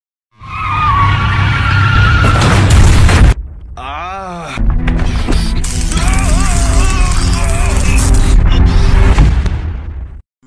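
A car skids with loud tire squeal and crashes into another car: screeching tires, a heavy impact, then a brief lull and more squealing and grinding metal, close and loud.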